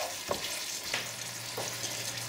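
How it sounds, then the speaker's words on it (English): Meat and tomato sauce for moussaka simmering and sizzling in a pan, a steady broadband hiss with a few soft stirring scrapes, close and moderately quiet with no talking. "Turn that low now. We're going to simmer this. Make sure all the meat gets covered in the tomatoes."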